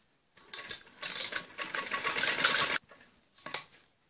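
A sewing machine stitches down the folded edge of a trouser hem in two close, steady bursts of running, the longer one lasting about two seconds, followed by a short final run after a pause.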